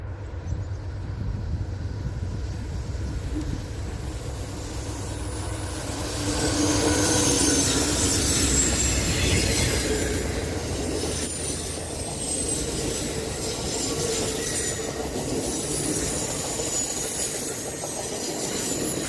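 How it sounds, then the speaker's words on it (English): Amtrak 41, the eastbound Floridian passenger train, rolls through Highland Cut on the Fort Wayne Line, a steady broadband rumble of wheels on rail with squealing flange tones and faint clickety-clack, building and sustaining as it passes close by. "The first was for Amtrak 41, the eastbound Floridian, running nearly 7 hours late through Highland Cut"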